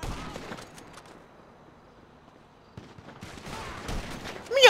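Gunfire in GTA V: a burst of rapid shots at the start, a quieter stretch, then more volleys building toward a loud final crack.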